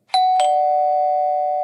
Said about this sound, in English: Janice hears the doorbell ring and answers the door to Rozelle.